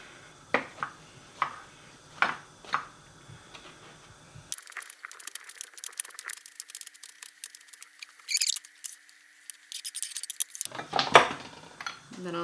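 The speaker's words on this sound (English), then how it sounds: "I'm keeping the tip of my knife on the cutting board and just lifting my other hand up and down" A knife chops vegetables on a cutting board, its tip held down as it rocks, giving a string of close, crisp taps, first spaced, then a rapid rattling run, then a few sharper cuts.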